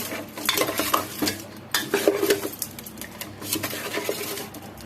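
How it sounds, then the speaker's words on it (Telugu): Fish pieces are mixed by hand with salt, turmeric and chilli powder in a bowl, giving close, busy clinks and wet squelching scrapes in irregular bursts, with no talking. "ఒక 1/2 టీ స్పూన్ పసుపు, 2 స్పూన్లు కారం. ఇప్పుడు వీటిని బాగా కలుపుకుందాం."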